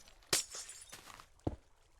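Tinted glass shatters in Minecraft, two sharp, crisp breaking crashes about a second apart, close and fairly quiet, with faint clinking tails after each.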